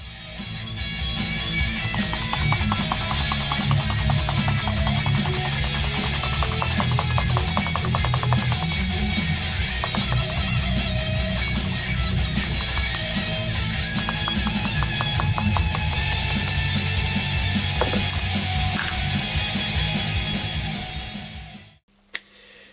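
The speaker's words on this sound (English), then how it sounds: "It's not very interesting. It's just sanding." Steady, continuous rasping of sandpaper working over a Yamaha guitar body being refinished, close and loud with a fast scrubbing rhythm, running alone for about twenty seconds before stopping abruptly.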